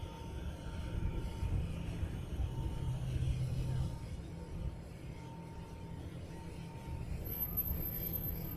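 A DHL cargo plane taking off at an airport in Hawaii, heard as a steady, broad low-frequency engine roar that rumbles on at moderate distance throughout, with no clear rise or fade.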